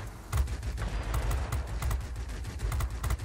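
Rapid machine gun fire from an F4U-1 Corsair in World of Warplanes, dense bursts of rattling shots repeating steadily and loudly over a low engine drone.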